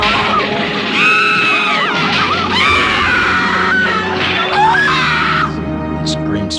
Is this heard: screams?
yes